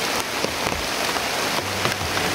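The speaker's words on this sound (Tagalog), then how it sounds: "sobrang lakas ng ulan" Heavy rain pours outdoors in a thick, constant hiss of drops pelting the surroundings, loud and unbroken with no voices.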